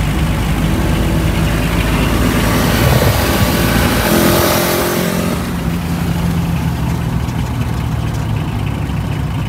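A 1994 Premier Padmini's engine driving in third gear through Hyderabad, a loud continuous rumbling drone with road and wind noise, steady throughout with a slight dip partway.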